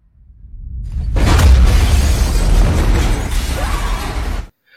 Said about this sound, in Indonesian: Selang beberapa detik mereka merasakan bahwa komet itu meledak dengan luar biasa.